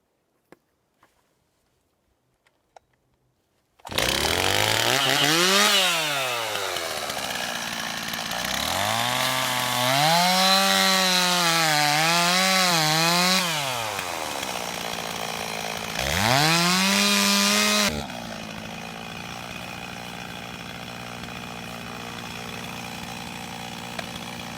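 Chainsaw cutting a face cut with a hinge into a tree: after a few seconds of quiet the saw starts loud and close, revving up and down through repeated strokes for about fourteen seconds, then drops to idle.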